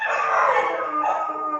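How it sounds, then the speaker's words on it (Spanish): Several neighbourhood dogs howl together in a sustained, wavering chorus that stays fairly loud and steady throughout, with no one speaking. "hay perros aquí de mis vecinos"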